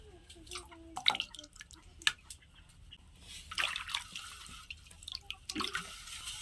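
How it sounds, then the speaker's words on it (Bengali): Slaked lime, the kind eaten with betel, stirred into water in a basin at home while making ash gourd murabba. Quiet, intermittent watery drips and small splashes come in irregular clusters with faint clinks. "তো আমি এখন অল্প করে চুন এই জলে মেশাবো"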